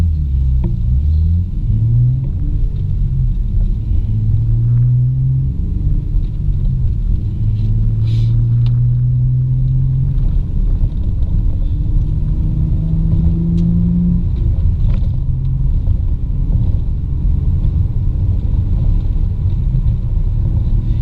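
A 2006 Honda Accord V6 J-series fitted with a stage 2 cam pulls away under a deep, steady rumble, its engine rising in pitch through several successive accelerations, heard from inside the car.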